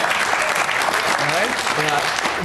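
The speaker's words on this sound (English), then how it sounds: "Round of applause." Steady applause from a crowd at a political address, with a voice speaking over the clapping.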